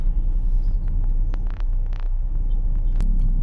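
Road traffic with a 16-wheeler truck on a service road, a steady low rumble of passing vehicles and engines, loud and close with no talking.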